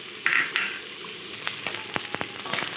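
Chopped tomato and a few whole green chillies stir-fried in mutton fat oil, a steady close sizzle of frying with brief louder hisses early on and light scraping stirs throughout, no talking.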